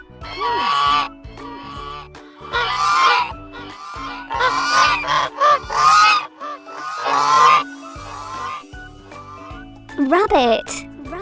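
Goose honking in a series of loud, harsh calls with short gaps, clear and close, with a brief higher squawk near the end; no talking over it.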